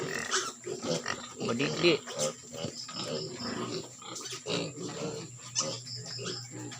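Domestic farm pigs grunt and oink in uneven bursts close by, mixed with snorts while someone talks over them throughout.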